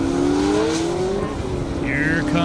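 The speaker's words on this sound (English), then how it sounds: "Josh Kalis 69 Camaro coming up." A 1969 Camaro drag racing down an airstrip at a half-mile event: loud, continuous engine roar with rising revs as the car accelerates, heard from trackside amid crowd noise.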